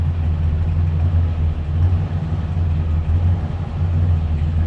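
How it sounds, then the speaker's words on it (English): A 1965 Chevrolet Chevelle Malibu convertible with a 283 engine idles with a deep, low exhaust rumble, steady and close throughout, with no voices over it. "A deep exhaust note."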